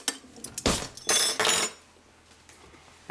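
A spoon clinks and scrapes against dishes while mayonnaise is scooped for deviled eggs made with seven eggs, giving a few close, bright metallic knocks in quick bursts before the room falls quiet.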